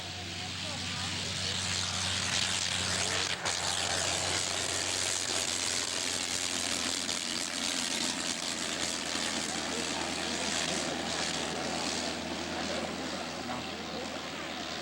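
A 1915 Nieuport 11 scale model aircraft with a rotary engine drones steadily at a scale aircraft show, a continuous buzzing engine tone under faint crowd and commentary.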